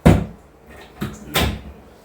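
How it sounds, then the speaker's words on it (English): A badly fitting wooden door at a bothy bumps and knocks three times in quick succession. The impacts are close and fairly loud, with a rattling thud in each, during stormy weather. "Door doesn't shut properly either."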